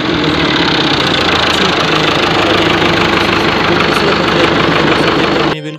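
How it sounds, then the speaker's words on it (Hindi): A 2001 Fiat 640 tractor engine runs steadily close by, a loud, even diesel chug with knocking texture that holds constant and then cuts off at the end. "तो आप साउंड इस ट्रैक्टर का चेक कर सकते हैं"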